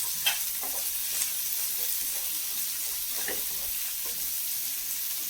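Coarsely chopped tomato with ginger and garlic cloves roasting in a pan for veg Kolhapuri, a soft continuous sizzle with occasional light scrapes of stirring, steady and moderately quiet.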